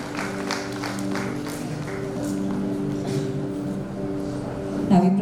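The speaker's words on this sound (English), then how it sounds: "A big round of applause for him as well." At a school annual day function, an audience claps in a sustained round of applause, with music or hum underneath and a louder burst near the end.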